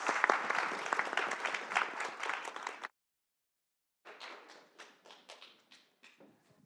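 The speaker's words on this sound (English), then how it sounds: "So give a round of applause to speakers." Audience applause for the speakers at a panel on Japanese traditional culture, a close burst of clapping that stops abruptly, then a short gap of silence and a second, lighter round of scattered claps.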